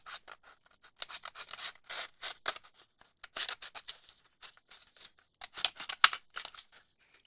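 Scissors snip through a paper junk mail envelope along a fold line, a rapid series of close, crisp cutting and scratching strokes with short pauses between runs, with no voices.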